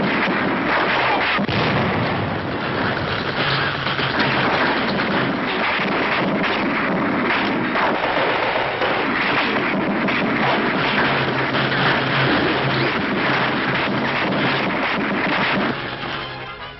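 Tank gunfire and direct-hit explosions from a WWII newsreel of the 1945 Allied drive into Cologne, heard as a dense, continuous roar of blasts and rumble that stays loud throughout, with no pause or quiet gap.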